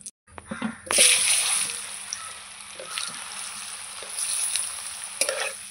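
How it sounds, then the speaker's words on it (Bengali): Potatoes dropped into hot oil tempered with cumin and a dried chilli, frying for a fish curry: a sudden burst of sizzle that settles into a steady hiss, with occasional stirring and clatter. "লাল লাল করে ভেজে নেব"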